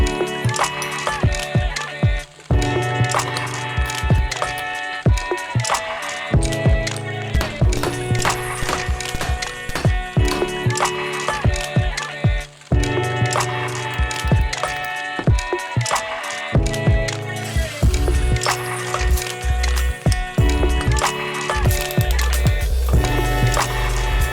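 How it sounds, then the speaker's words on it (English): Brass coin being cut with a 5/8 inch auto-centering disc punch, sharp repeated metallic strikes and clanks ringing out irregularly over about twenty seconds, loud and close with no talking. "So the first thing we need to do is cut the center of it out. And we're going to be using a 5/8 inch punch"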